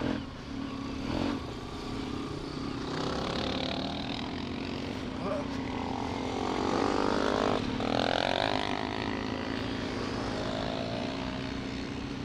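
An off-road motorcycle rides along a grass path through partly frozen countryside, its engine droning steadily and nearby with revs rising and falling; a rider's voice mixes in briefly.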